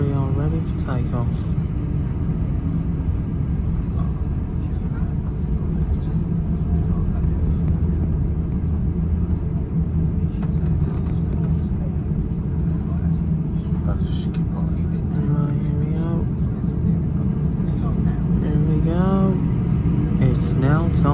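Jet airliner engines idling before takeoff, a steady loud cabin rumble and drone that holds without a break, with faint tonal whines and muffled voices inside the cabin.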